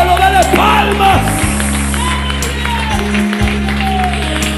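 A church congregation claps along during worship singing, rhythmic hand claps and shouts layered over loud music and a sustained keyboard drone.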